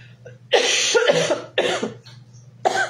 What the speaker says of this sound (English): Cough of release.